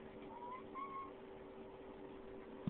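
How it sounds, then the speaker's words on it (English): A small house cat meowing, two soft drawn-out mews early on, faint against a steady background hum. "Oh, this is my little cat, Amber."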